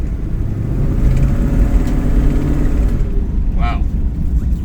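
A 1969 Ford Mustang Mach 1 with a 428 R Code V8 runs steadily up close, a loud low rumble filling the whole stretch with a short higher-pitched chirp near the end.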